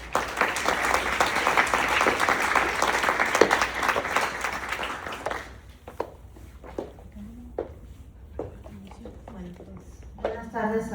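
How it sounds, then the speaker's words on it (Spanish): Strong audience applause welcoming a speaker at a Brain Week talk on addictions: loud, dense clapping for about five seconds that thins out into scattered claps, then a voice begins speaking. "recibámoslas con un fuerte aplauso"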